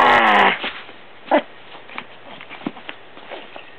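A dog whimpers and shuffles around close by, with a brief high whine at the start followed by scattered soft thumps and scrabbling movement noises.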